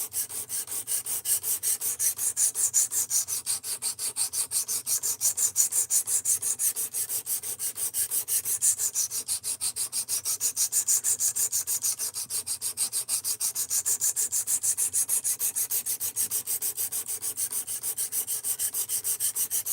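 Blade being sharpened by hand, a steady rhythmic rasping rub of steel across a stone, faint and continuous with even back-and-forth strokes and no talking.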